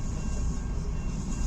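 The southbound CN 383 freight train, with lumber cars, rolls through Richmond, Michigan, a steady low rumble and rolling roar held at an even loudness throughout the brief stretch.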